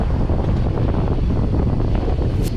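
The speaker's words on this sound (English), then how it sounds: "Glad to have wind now" Wind buffeting a microphone aboard a sailboat at sea off Dominica, a loud close gusty rumble with rough roaring texture, brief and unbroken, no talking.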